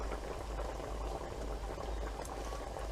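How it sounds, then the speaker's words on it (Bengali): Fish curry gravy for doi katla bubbles at a hard boil in a pot, a dense, continuous rolling burble with a low rumble, close and steady with no talking. "এবার তুলে দেখি ঝোল ফুটে গেছে টকবক করে"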